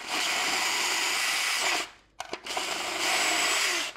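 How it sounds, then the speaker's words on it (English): A power drill whines steadily at high speed drilling through a plate for a Tesla Wall Charger wire, pauses briefly with a few clicks, then spins up again for another run. "so we're gonna drill through it."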